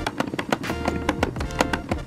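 A slim Lego engine built with no external valves or linkage runs steadily, with a piece inside smacking against it in a fast, repeating tapping rhythm at close range and no voices.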